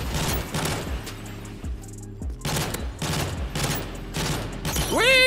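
Rapid gunfire from a Type 95 rifle firing three-round bursts in Modern Warfare 3, repeated bursty cracks with game sound effects layered under the shots and a rising electronic tone at the end.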